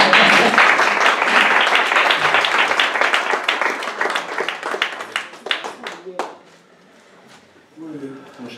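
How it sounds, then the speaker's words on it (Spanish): An audience at a novel presentation applauds, a dense burst of clapping that thins out over several seconds before a voice speaks. "yo quiero dar un aplauso"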